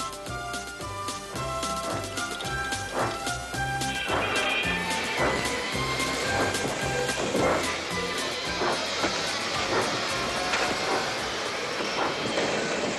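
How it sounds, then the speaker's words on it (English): Steam engines Donald and Douglas puffing hard as they haul a train, with loud rhythmic chuffing and clanking mixed into dense, busy background music throughout. "Donald and Douglas, puffing hard, managed to haul Thomas back to safety"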